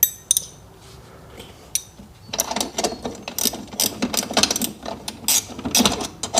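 Close ratchet clicking as the last steering bolt is tightened on a Sea-Doo RXDI personal watercraft, starting after a quiet pause and then a busy run of crisp, irregular clicks and metallic clinks.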